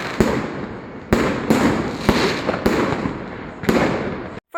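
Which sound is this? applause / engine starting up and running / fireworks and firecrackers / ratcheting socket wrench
fireworks and firecrackers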